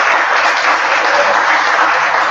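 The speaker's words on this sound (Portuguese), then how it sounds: "eu acho que uma salva de palmas para Jair" Applause from a forum audience, a dense, steady clatter of clapping that fills the whole stretch at close range, with no talk over it.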